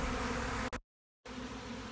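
A swarm of honey bees flying around a beekeeper who is catching it in a box, giving a dense steady buzzing hum that cuts out briefly partway through.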